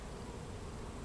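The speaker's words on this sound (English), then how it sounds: "Wow, there are a ton of bees." Dense, continuous buzzing of many honeybees swarming around beehives during an inspection, a faint, even hum with no talking.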